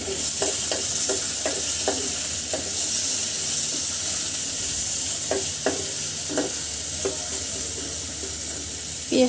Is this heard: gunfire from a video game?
no